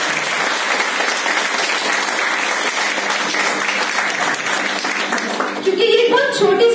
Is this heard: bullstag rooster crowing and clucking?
no